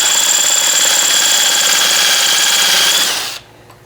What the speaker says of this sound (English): I'm going to go ahead and drill through, trying to keep it as perpendicular as possible with the 1/4 inch bit